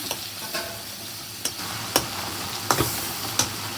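Fermented dried fish (chepa shutki) sizzles in a pan as a splash of water is added. A spatula stirs with sharp scraping knocks at irregular intervals over a constant low frying hiss.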